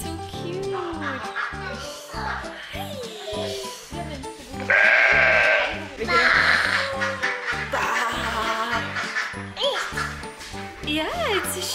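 Sheep bleat at a farm where visitors feed baby animals, several short calls rising over close, steady talking from adults and children.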